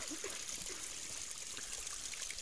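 A small natural spring trickles outdoors, giving a steady, close, continuous babbling of running water with no pauses.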